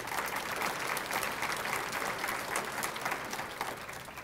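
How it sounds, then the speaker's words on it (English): Steady, dense applause from a large audience at a city's State of the City address in Coeur d'Alene, holding at an even level throughout with no voices on top. "I'd like to give Terry a round of applause"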